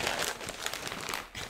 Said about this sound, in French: C'est du papier cadeau, pour ça elle arrive pas à le déchirer.